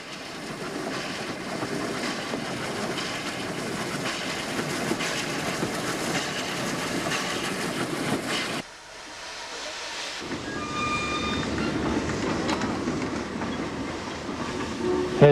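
A Terrier steam locomotive shunting at Robertsbridge, a steady rumbling and rolling of wheels on rails with hissing, continuous throughout with a brief drop in the middle before resuming.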